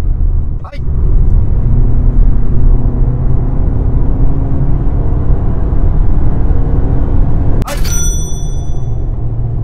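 A Suzuki Fronx 2WD with a 1.5-litre engine accelerates on a highway from 70 to 100 km/h, giving a loud, steady engine drone and road rumble inside the cabin, broken by two brief sharp clicks.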